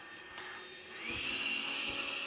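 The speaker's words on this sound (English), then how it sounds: "Now that the vacuum is charged, let's go ahead and click on this button here and start mapping." A Tikom L9000 robot vacuum and mop starts its mapping run with a steady mechanical whir that rises into a higher, sustained motor whine, moderately loud, with no talking.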